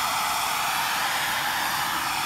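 A hair-dryer-like heat blower warms plastic to heat weld a patch onto a collision-damaged front bumper, giving a loud, steady, unbroken airy hiss from close by.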